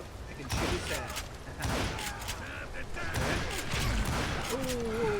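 Gunfire in the Western shooter game Call of Juarez Gunslinger, with repeated sharp shot bursts over a busy game soundscape, a few louder reports near the start and middle, and a whistling tone toward the end.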